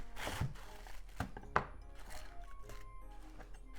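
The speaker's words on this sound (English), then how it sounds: "Cut the core off. Cut it into half." A knife chops through a head of cabbage on a cutting board, giving a few sharp, close thunks at uneven intervals with quiet pauses between them and no talk.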